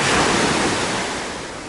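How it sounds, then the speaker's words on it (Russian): Mediterranean sea waves on a beach at Alanya, Turkey wash and roar steadily, a broad rushing surf sound that slowly fades slightly, with no voices. "Море немного сегодня бушует, но волны не сильные."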